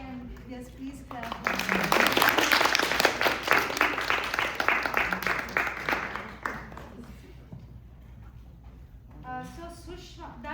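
A dance audience applauds after a Kuchipudi choreography at an open rehearsal, loud and dense clapping that builds quickly, holds for several seconds, then thins out and fades as a voice begins talking over the tail.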